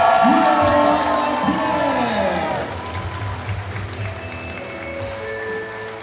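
A crowd at an Ekstraklasa club match loudly cheers, whoops and applauds as player number 13 is introduced. Shouts and yells peak early and then ease into steadier clapping and crowd noise.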